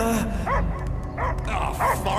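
A dog in the Guardians of the Galaxy video game barks in short, sharp yips and bow-wows at a close distance, with a few whimpering tones and low game ambience beneath.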